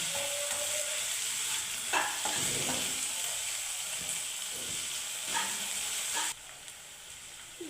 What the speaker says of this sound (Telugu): ఈ అల్లం వెల్లుల్లి పేస్టు పచ్చి బాసన పోయినంత వరకు వేయించుకోవాలండి